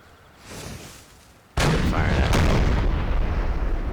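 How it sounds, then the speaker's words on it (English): Four-pounder foot artillery firing in a Napoleonic Total War battle: faint distant rumble first, then one sharp, loud cannon blast with a crackling follow-up and a long, dense roar of battlefield noise trailing after. "Near miss by my cannons."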